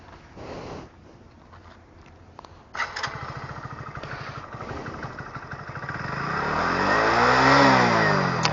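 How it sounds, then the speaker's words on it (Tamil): A 2025 Hero Splendor Plus commuter motorcycle fires up after quiet handling noises, then idles and revs steadily louder, its exhaust note swelling to a peak near the end, with no talk. "இந்த வண்டியோடைய எக்ஸாஸ்ட் சவுண்டு கேட்டுருவோம் இங்கேயே."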